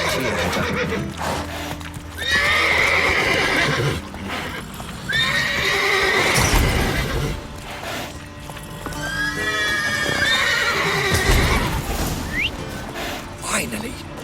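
Horses in The Witcher 3 whinny repeatedly with shrill neighs over a busy backdrop of clip-clopping hooves and mechanical clatter, with some voices mixed in.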